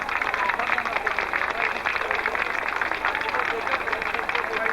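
Outdoor spectators applaud the winner of a cycling race at the Saint-Jean event in La Châtaigneraie, a steady, even clatter of hands that runs throughout while an announcer's voice carries over it.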